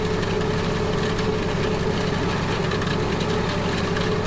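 A tractor-driven hay tedder works wet alfalfa on a flooded field, its engine a steady, close, unbroken drone with a busy mechanical hiss on top and no talking.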